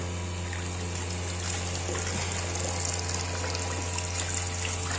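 An electric motor drives cooling water in counter-flow through the copper-tube heat exchanger of a biogas amine-scrubbing purification and bottling unit, giving a steady, constant hum over rushing, trickling water throughout.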